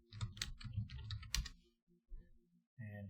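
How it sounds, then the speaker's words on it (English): Keys clatter on a loud computer keyboard, a close flurry of rapid clicks and taps that pauses, then returns with a few more strokes. "excuse my loud keyboard"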